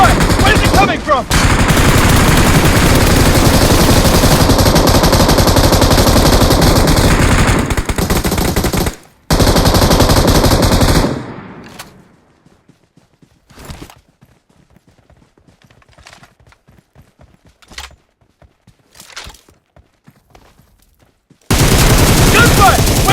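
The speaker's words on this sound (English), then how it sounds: "Gunfire! Where's it coming from?" Rapid automatic gunfire in a snowy blizzard mission of a shooter video game, loud, dense and sustained for about eleven seconds, then scattered single shots over near silence before another loud burst at the end.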